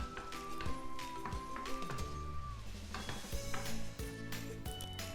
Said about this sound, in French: je viens faire revenir les lamelles d'oignon pendant 5 minutes.